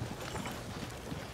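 Horse hooves clip-clop continuously in Red Dead Redemption 2, the quick, muffled hoofbeats blending into a dense wash of game ambience with no clear gaps.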